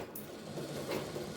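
A sewing machine stitches fabric in a tailoring lesson for beginners, running as a steady, close mechanical whir with a fine rapid needle rhythm throughout, without any voices.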